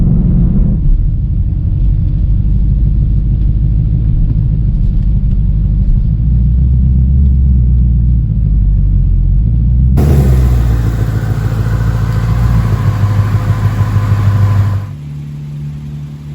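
A boosted 2021 Ford Mustang Mach 1 engine idles with a deep, steady rumble, then grows louder and harsher before settling back, close by and continuous.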